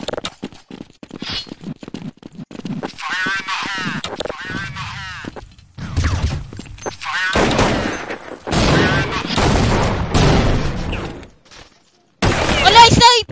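A shooting video game produces bursts of gunshots and sniper fire, sharp loud cracks and rattling volleys alternating with stretches of excited shouting from players.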